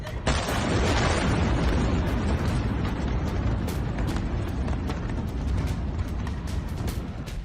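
Missile strikes on an airbase: a continuous roar of explosions and rumbling blasts with sharp cracks scattered through it, loud and dense, with no break.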